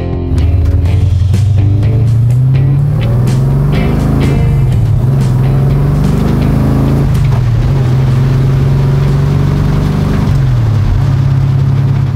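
A Chevrolet Nova with a 327 engine and Muncie 4-speed manual on a pavement test drive, its V8 droning loudly and steadily up close, rising and dropping in pitch through gear changes.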